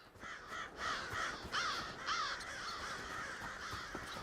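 Creepy crows caw repeatedly in the Elder Scrolls Online, several harsh, rasping calls in a loose rhythm at moderate distance over a faint ambient background.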